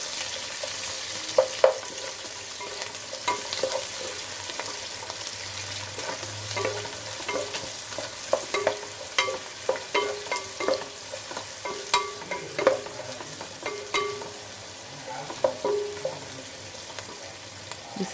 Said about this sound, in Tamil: ஆனியன்ஸ் ஆட் பண்ணி நல்லா வதக்குறோம்